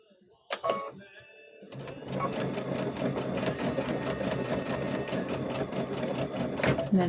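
A sewing machine stitches together a trick-or-treat bag. It starts with a few handling clicks, then settles into a long, rapid, rhythmic needle chatter close by that carries on to the end.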